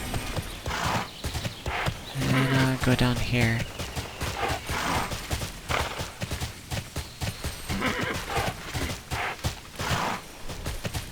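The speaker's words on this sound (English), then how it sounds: "See, switch to my horse." Horse sounds from the online game Tera with an Elin archer character: rhythmic hoof clip-clops run throughout, a clear neigh and whinny rises near the start, and someone narrates over the hoofbeats.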